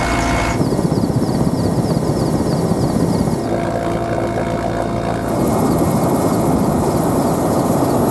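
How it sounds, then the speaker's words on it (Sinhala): An MI-17 helicopter used by the air force at night to fight a fire, heard as a loud, steady rotor and engine roar that continues without pause and shifts in tone partway through. "ගුවන් හමුදාව ඊ රාත්‍රී MI-17 වර්ගයේ හෙලිකොප්ටර් යානයක් යොදා ගත්තා"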